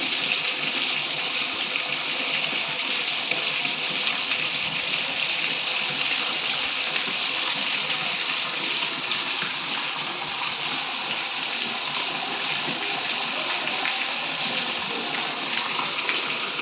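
Rainwater gushes from a roof drain spout during heavy rain in a Kapurthala village, pouring onto a street near a bucket, a loud, constant splashing rush lasting throughout with no voices.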